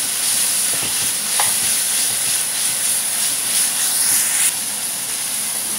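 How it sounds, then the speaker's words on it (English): Ginger garlic paste fries in a hot pan for a chicken curry, making a continuous close sizzle with stirring scrapes and clinks that ease off near the end, with no one speaking. "I'm adding in the ginger garlic paste and cook it for 1 minute."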